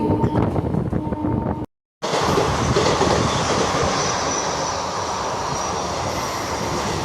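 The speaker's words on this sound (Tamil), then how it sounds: "ட்ரெயின் இப்போ நிற்க போகிறது தான் வந்து அம்பத்தூர் ரயில்வே ஸ்டேஷன்." A train near Ambattur railway station in Chennai rolls steadily along the rails with a loud, continuous rumble and rattle that drops out for a moment before resuming.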